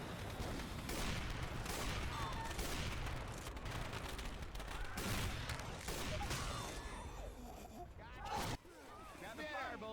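Rapid bursts of gunfire in the zombie shooter Left 4 Dead 2, dense crackling volleys that keep going for several seconds before tailing off into scattered shots, with a player talking over the action.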